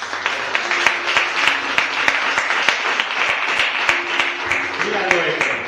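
A church congregation applauds steadily at full volume, dense clapping with sharp individual claps standing out near the front, with voices and cheering mixed in beneath.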